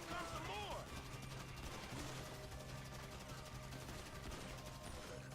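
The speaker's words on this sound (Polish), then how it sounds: "Spróbuję strzelać w głowę." Rapid bursts of gunfire in Grand Theft Auto V crackle steadily throughout, with a voice talking underneath the shooting.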